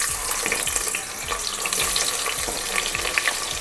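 Onions frying in hot ghee in a pan over a medium gas flame give a steady, close crackling sizzle with fine spitting pops throughout, no voices over it.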